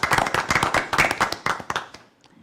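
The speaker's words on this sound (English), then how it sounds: "clap, please, for their hard work." A few seconds of brisk, close hand clapping from a small group at a school board meeting, honoring students, teachers and staff, fading out at the end.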